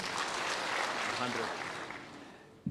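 A crowd at an outdoor political rally applauds in a brief burst of dense clapping that fades out within about two seconds, with voices mixed in.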